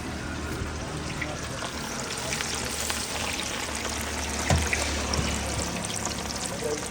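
Whole pieces of seasoned fish sizzle in hot oil at an outdoor village cooking spot, a steady crackling hiss running throughout with a few soft clinks and faint voices in the background.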